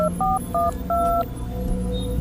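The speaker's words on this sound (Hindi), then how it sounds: "प्रीत ने आसिफ के घर में फोन करने लगा" Telephone keypad tones ring out in several short, evenly paced beeps as a phone number is dialed, clear and close over a low background hum.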